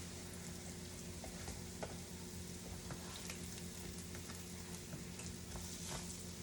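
Bannock dough frying in hot oil gives a continuous soft sizzle with small crackles and pops throughout, fairly faint and steady, with no talking.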